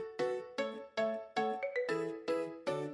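Bright bell-like notification chime, a series of seven evenly spaced ringing strikes of a few tones, each decaying quickly before the next, clear and alone with no voice.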